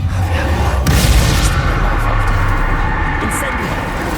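Bombarda spell explosion in Hogwarts Legacy on PS5, a sharp burst just under a second in that rolls into a low boom and rumble, loud against ongoing in-game background noise.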